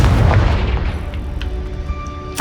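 A Confringo spell explodes in Hogwarts Legacy, one loud, deep boom that rolls and fades over about two seconds, with small crackles and debris sounds trailing after it.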